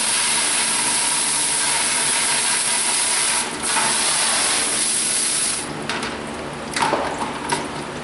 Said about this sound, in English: We've got everything blown off with a blow nozzle